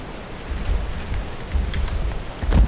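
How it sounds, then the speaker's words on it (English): Rain falling in the Valheim video game, a soft steady patter with low rumbling swells, moderately quiet and without any voices. "it started raining"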